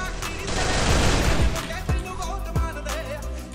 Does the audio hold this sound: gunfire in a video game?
yes